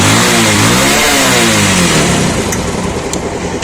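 A motorcycle engine revs hard during a battery charging test with a testing lamp wired in, a loud sustained roar with rising and falling pitch sweeps that settles slightly toward the end, close by with no talk.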